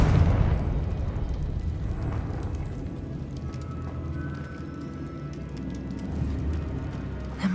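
A Confringo fire spell in the video game Hogwarts Legacy bursts with a loud explosive boom at the start, then a rumbling, crackling decay that trails off under game ambience.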